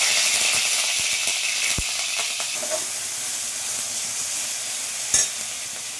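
Onion, ginger and garlic paste sizzles steadily in a wok while being stirred, a continuous broadband frying hiss with occasional scrape and spatula knocks, close and alone.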